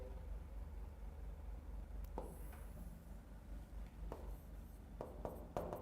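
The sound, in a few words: writing the given terms of a physics problem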